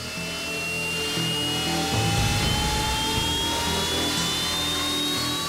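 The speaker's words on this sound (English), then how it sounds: "Engines are started and the aircraft line up for takeoff." Jet aircraft engines spooling up on a warship's deck before takeoff, a loud steady whine with rising tones over a rumbling roar that swells and holds.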